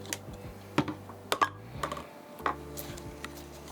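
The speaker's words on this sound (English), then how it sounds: "Cleaning the bottom of the keyboard here as well." Cleaning the underside of a Roccat Vulcan Aimo 120 mechanical keyboard produces sharp, irregular clicks and taps, close and fairly quiet, scattered over a few seconds with short gaps between them.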